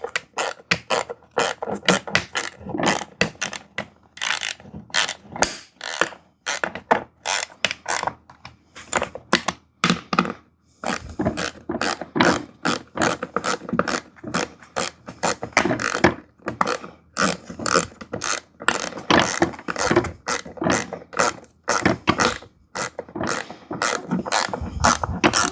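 Ratchet wrench tightening bolts during assembly of a VEVOR hydraulic barber chair, a long run of rapid, sharp clicking strokes close up, in steady bursts with brief pauses, no talking.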